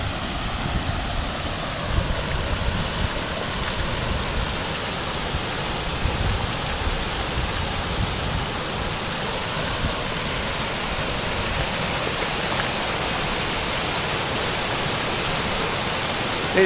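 Well water discharges into the Kings River, eroding the bank, as a constant loud broadband rush of running water that holds steady throughout with no voices.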